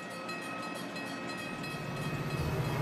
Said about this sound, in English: Emergency fuel gets passenger trains rolling again.